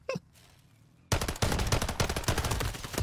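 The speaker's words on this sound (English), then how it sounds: "that guy was fucking panic shooting" Rapid automatic gunfire in an online shooter video game, a brief shot at the very start, a pause, then a dense, loud burst of fast rattling shots that runs to the end.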